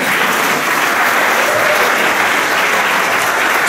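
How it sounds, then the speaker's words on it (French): Steady, dense clapping from a crowd at a gathering, loud and even throughout with no pauses. "On peut l'applaudir encore."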